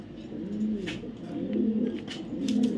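Soft, repeated cooing from a saddle-patterned female racing pigeon wearing a leg tag, low throaty notes rising and falling steadily, close and moderately loud, with no voices.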